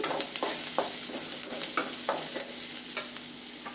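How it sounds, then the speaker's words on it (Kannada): Onions frying in a pan for a Maggi noodle dish, with steady sizzle and a series of spoon scrapes as they are stirred, close and moderately loud, no talking. "ಈಗ ಈರುಳ್ಳಿ ಚೆನ್ನಾಗಿ ಫ್ರೈ ಆಗಿದೆ"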